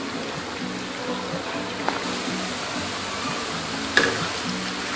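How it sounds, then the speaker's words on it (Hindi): Sliced bitter gourd and potato fry in hot oil in a pan, giving a steady soft sizzle with a couple of faint utensil clicks. No one speaks. "आप देख सकते हैं बहुत ही अच्छे से फ्राई हो रहे हैं।"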